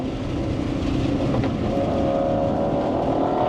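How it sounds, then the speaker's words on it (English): A Ford race car with a Borla exhaust droning at a steady, loud engine note throughout, with a constant low rumble and no talking. "one of my favorite features in the car is actually the Borla exhaust. It sounds freaking phenomenal in this car."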